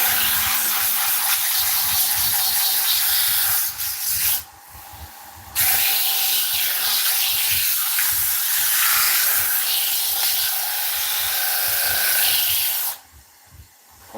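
Sandpaper of 120 grit rubs against an oak platter spinning on a woodturning lathe, making a close, continuous raspy hiss. It breaks off briefly twice, once near the middle and once just before the end.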